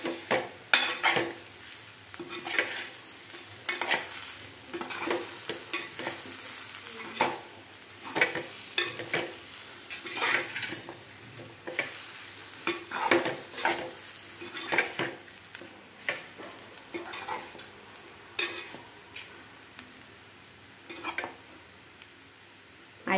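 Potato chakli frying in a pan with four thin green chillies, a spatula stirring and scraping in repeated strokes over a steady crackling sizzle; close and moderately loud, no talking.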